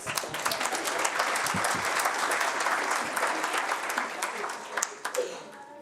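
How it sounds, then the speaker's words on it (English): An audience claps steadily and fairly loudly for several seconds before the applause thins into scattered claps near the end. "I encourage clapping."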